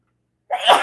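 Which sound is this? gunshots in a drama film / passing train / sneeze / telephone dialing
sneeze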